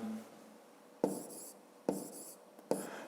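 A pen scratches numbers onto paper in short, close bursts, three or four quick strokes separated by brief pauses in a quiet room.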